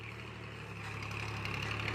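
A Ford tractor engine runs in the background while a pond is being dug out. It is a low, steady droning hum with a faint, even pitch, fairly quiet and distant, and nothing else is heard over it.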